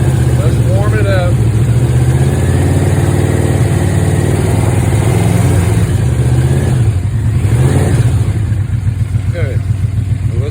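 A Yamaha Royal Star Venture motorcycle engine warms up at idle, a loud close steady rumble with a fast even pulse that continues throughout, with faint shifts in tone near the end.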